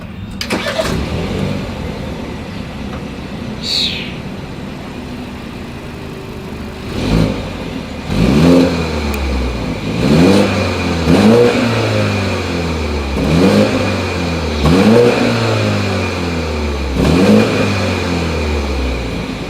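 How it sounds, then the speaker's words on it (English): A BMW 530i engine starts and then revs repeatedly, the exhaust roaring up and settling back in a steady series of loud blips. "As always, here is that exhaust clip."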